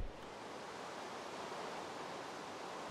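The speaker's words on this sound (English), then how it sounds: "Yes, it is raining." Rain falls in the video game Minecraft, a soft, steady, even rushing wash with no distinct drops, faint and continuous.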